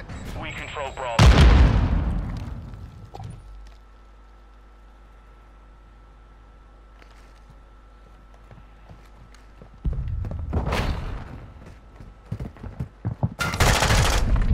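A Semtex grenade blast followed by gunfire in Modern Warfare II: a loud burst opens, a low rumble holds under quieter stretches, then further sharp bursts of shots arrive near the end.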